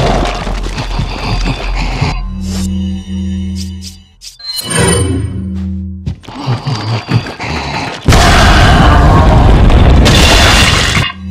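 Heavy booming explosions from a thrown bomb in a Leon Kennedy versus J.J soldier video game fight, with several loud blasts and crashing bursts, then a sustained roaring blast near the end.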